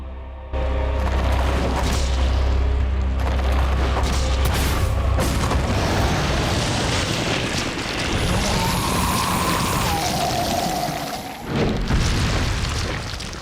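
Rocket launcher blasts in Resident Evil 4 open with a deep, booming explosion. A long, dense rumble and crackle follows with a brief whistling tone, and a second burst hits near the end.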